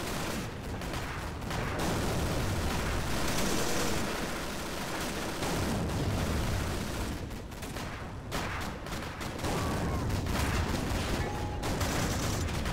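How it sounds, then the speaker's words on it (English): Continuous loud gunfire and explosions from a German machine gun in the Steel Fury World War II tank game, a dense sustained rattle with brief lulls, no talking. "So, that's the German machine gun."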